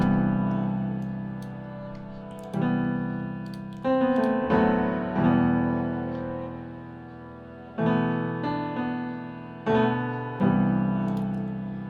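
Sustained keyboard chords with echoing repeats, new chords entering every couple of seconds and ringing out under a soft ticking pulse.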